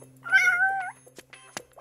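A cat gives one clear, drawn-out meow close by, followed by a few faint clicks and rustles.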